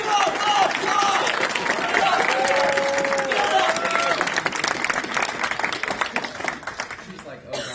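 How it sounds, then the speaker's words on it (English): A crowd claps and applauds steadily for several seconds, a dense wash of clapping that fades slightly toward the end. "Andrea, round of applause!"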